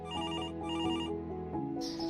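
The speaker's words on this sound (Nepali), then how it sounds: "एकछिनमै फेरि फोनको घन्टी बज्यो।" A phone rings with a repeating electronic ringtone, two steady bursts followed by a brief change in tone, loud and close, with nobody talking.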